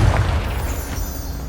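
A deep boom of the Confringo fire spell blasting in the Hogwarts Legacy video game, one heavy low explosion that rumbles out and fades over a second or so.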